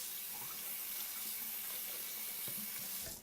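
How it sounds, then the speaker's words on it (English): Water runs steadily from a faucet into a sink, a continuous close hissing splash during hand washing of a product, with faint handling noises toward the end. "So hopefully you can hear me over the water."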